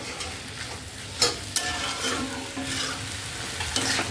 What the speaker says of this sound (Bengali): এই যে দেখো ভালো করে ভেজে নিচ্ছি।